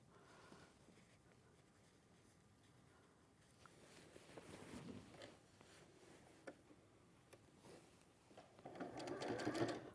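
A sewing machine stitches a quilt panel for a winter botanicals quilt, a quiet rapid mechanical patter that runs in short bursts and grows louder toward the end, ending in a back stitch.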